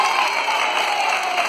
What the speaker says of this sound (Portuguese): Aplausos para Jaci!